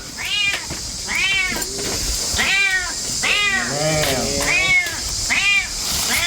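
A stray cat trapped in a well meows repeatedly during a rescue, six loud, drawn-out cries at a steady pace, with a faint voice in the background.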